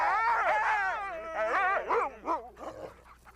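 Sled dogs at a Swiss glacier near the Jungfrau howl and yelp together in wavering, overlapping cries, loud and close at first, then breaking into shorter whimpers and barks.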